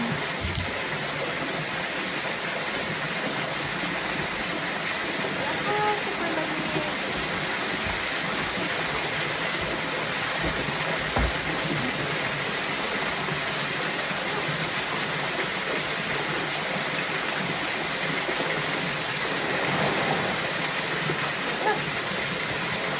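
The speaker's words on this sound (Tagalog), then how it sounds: "This is a waterfall here at the farm." A waterfall on a farm roars in a constant, dense rush of falling water that holds steady throughout, with faint voices now and then underneath.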